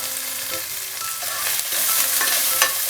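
Onions with cumin and curry leaves fry in a pan, sizzling close and bright while a spatula stirs, with clicks and scrapes, no voices.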